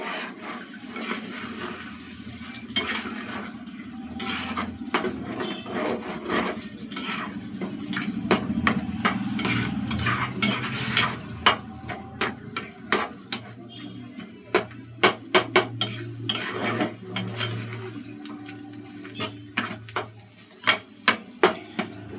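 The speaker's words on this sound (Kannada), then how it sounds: "ಇವಾಗ ಚೆನ್ನಾಗಿ ಮಿಕ್ಸ್ ಮಾಡ್ಕೊಳ್ಳೋಣ." Beaten eggs stirred and scraped in a pan without oil for egg bhurji, a steady rasping scrape with a string of sharp utensil taps on the pan toward the end.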